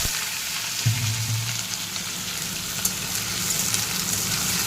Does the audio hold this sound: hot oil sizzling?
yes